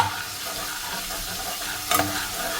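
Fish pieces frying in a pan for fish tikka masala give a steady close sizzle with scraping stirs and one sharper clatter near the end, no talking.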